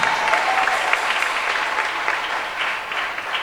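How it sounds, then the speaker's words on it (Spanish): A church congregation applauds, a sustained, fairly loud wash of many hands clapping together that holds steady and eases off only slightly toward the end. "dale un aplauso al Señor en esta"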